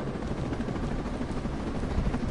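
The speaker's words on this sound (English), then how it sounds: "Damn, wait, I love the choppers." A helicopter in a video game gives a steady, dense rotor rumble throughout, close and loud, with no talk.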